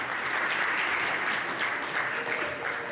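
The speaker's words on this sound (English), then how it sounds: "Can we have a round of applause, please, for Sir Vaz?" An audience at a business forum claps steadily throughout, a dense patter of many hands at moderate distance.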